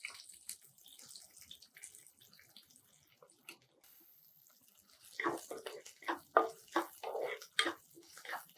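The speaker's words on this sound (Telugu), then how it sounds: "ఇప్పుడు ఆనియన్స్ వేసేసేయండి." Chopped onions drop into hot oil already crackling with mustard seeds and cumin, giving a faint hiss that swells into louder sputtering bursts partway through, with no talk.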